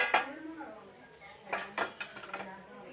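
Utensils clinking against a dish as a fried evening snack is lifted out and moved in, a few short metallic clatters and scrapes spaced over a couple of seconds, close by.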